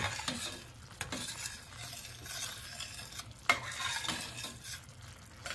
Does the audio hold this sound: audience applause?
no